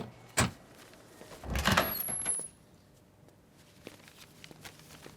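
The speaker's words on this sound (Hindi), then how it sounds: "मैं दरवाजा अनलॉक करती हूँ" A door unlocked and swung open for a supermarket delivery in a home: a sharp click, then a louder burst of handle and door movement, followed by quieter faint rattles.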